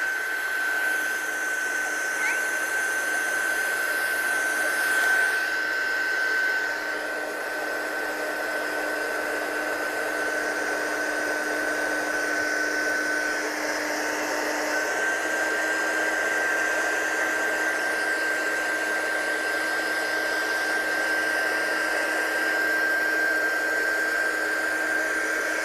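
A dryer blows steadily to dry a wet craft project. The airflow is loud and close, with a constant whining tone that holds for the whole stretch and no break.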